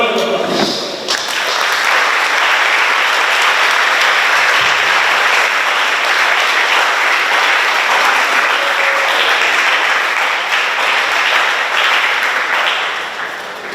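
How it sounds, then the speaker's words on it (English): Students at an Education Week 2022 gathering give loud, sustained applause welcoming dignitaries and guests, a dense roar of clapping lasting well over ten seconds before easing slightly at the end. "with a round of applause"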